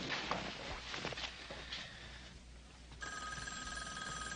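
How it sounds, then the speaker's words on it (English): An old telephone's bell rings at night in a quiet house, a sustained, shrill electric trill that starts after a few soft footsteps and rustles and carries on steadily, moderately loud. "Robin, don't answer the phone"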